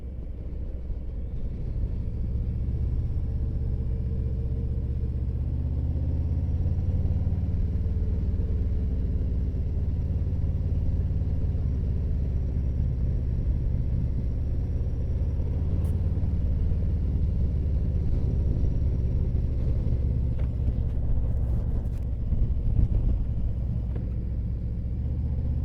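A motorcycle engine rumbles steadily while riding along a road, a continuous low drone mixed with rushing wind that holds even for the whole stretch.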